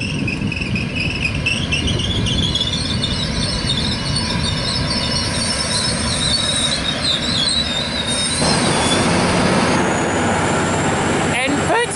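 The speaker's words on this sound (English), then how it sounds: "N13 is now departing platform number 2, Must Bail service" A Sydney Trains N-set service departs platform 2 at Tahmoor, bound for Mittagong, with a steady rumble and high wheel squeal rising as it pulls out. A platform announcement plays over it.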